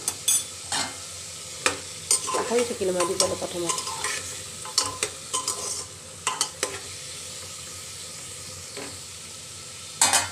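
Onion with crushed ginger and garlic frying in a pan, a continuous soft sizzle broken by repeated scraping and stirring clatters of a spatula, with someone speaking briefly in between.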